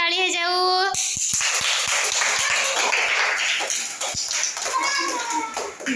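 Children in a classroom group activity clapping for their group leader, a burst of scattered hand claps after a woman's speech, with kids' voices and shuffling around them.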